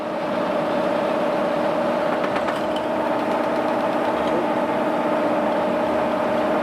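A steady mechanical drone from a boat's unsupported feed shaft wobbling because a supporting piece is broken, with a constant hum and faint rattling texture, continuous and fairly loud, with no talking.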